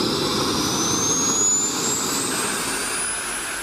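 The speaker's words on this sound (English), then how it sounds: "The JSX2 Subsonix sport jet is a single-seat, kit-built airplane that's powered by a modern jet engine." A Subsonix JSX-2 single-seat kit-built light sport jet roars with a steady, loud turbine rush. A thin, high whine climbs gradually in pitch throughout, with no voices.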